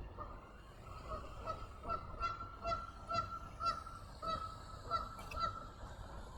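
Geese honking repeatedly by the water at a dam-break site in Baldwin Hills, a series of loud, rhythmic calls over steady background noise, with no talking.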